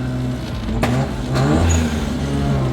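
A rotary-engine car blips its throttle in short bursts, the engine note climbing and dropping in two or three quick revs from close by, with a steady idle hum running between them and no voices.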